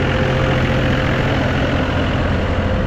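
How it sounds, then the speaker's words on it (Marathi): A tractor engine runs steadily and loud at close range, a continuous low rumbling idle with no breaks and no talk over it. "ट्रॅक्टरच्या आवाजाने मग गाणं सगळी चवला वाट लागली।"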